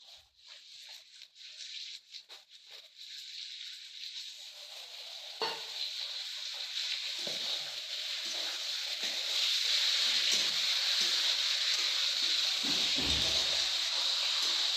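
Chicken pieces dropped into a hot pan of spiced masala for Bengali chicken kosha, bursting into a loud sizzle after a few stirs, then a steady, intensifying fry hiss with utensil scraping throughout.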